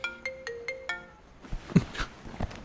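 A mobile phone ringtone plays a short repeating electronic melody of bright tones, followed by a few soft knocks and rustles, fairly faint and with no talk.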